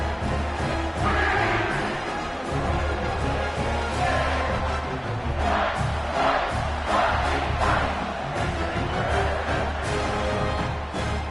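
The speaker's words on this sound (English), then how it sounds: "this crowd is buzzing after that last score" A football stadium crowd buzzes after a touchdown, a dense, steady roar of many voices with scattered shouts rising above it, no single speaker standing out.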